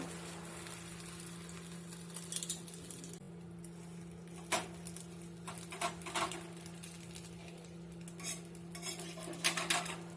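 An omelette served onto a plate with metal utensils: irregular clinks and scrapes of cutlery against the plate over a steady background hum, quiet and close, with no speech.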